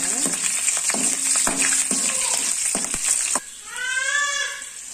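Garlic hits hot oil for a sardine curry, crackling and sizzling loudly with sharp stirring clatters, then settling into a softer, steady bubbling fry.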